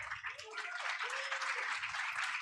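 Applause from a forum audience of youth presentations, a broad steady wash of clapping that holds for a couple of seconds beneath a speaking voice and low music.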